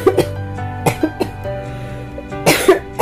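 Several short coughs in separate bursts, one near the start, a couple in the middle and a louder pair near the end, over a faint steady background hum.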